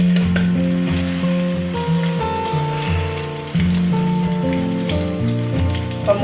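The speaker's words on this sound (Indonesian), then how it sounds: "Nah, ini minyaknya udah panas. Masukkan bumbu yang tadi diulek tadi, yang sudah dihaluskan." Ground spice paste goes into hot oil and fries with a loud, dense, continuous sizzle over a steady tonal backdrop, close and even throughout.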